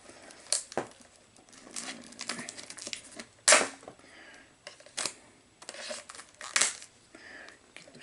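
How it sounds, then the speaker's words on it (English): Scissors snip and crinkle through shrink wrap on a VHS tape close by, in irregular sharp clicks and rustles with short pauses between cuts, no voices. "Cut it with the scissors"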